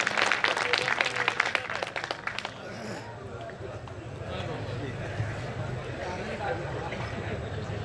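Audience at a village fair poetry recital clapping in a burst of loud, dense applause that fades after a few seconds into crowd murmur, with someone speaking over the hall.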